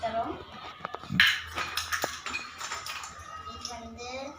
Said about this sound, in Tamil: ஸோ இது வந்து ஒரு பாத்திரம்.